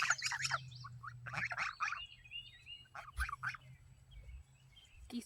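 Young goslings kept close by call in a series of bright, high peeping and chirping bursts, fairly faint, with short gaps between calls and a low background hum.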